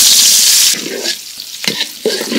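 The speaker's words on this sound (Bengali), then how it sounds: "মাছ ভাজা তেল দিয়েই মাছটা ভুনা করবো।" Chopped onion sizzles loudly in hot mustard oil already used to fry tilapia, a bright crackling hiss at first, then settling into quieter frying broken by a couple of stirring scrapes.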